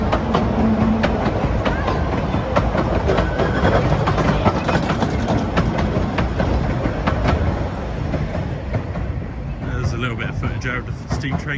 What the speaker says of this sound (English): Of the steam train going by.